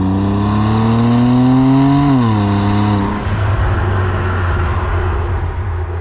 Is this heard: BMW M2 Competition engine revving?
yes